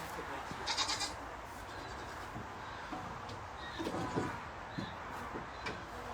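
Several goats bleat at feeding time at a distance over a steady background hiss, with scattered calls and a few faint clattering noises.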